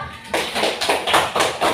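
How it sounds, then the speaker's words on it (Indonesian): Classroom students clap their hands in a few uneven bursts after a classmate answers in a Quranic lesson, close and fairly loud, with a faint murmur of voices behind. "Kasih tepuk tangan dulu"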